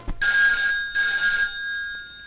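An old-style telephone bell rings in two loud, bright bursts separated by a short gap, then falls quiet, heard in a Malayalam film scene.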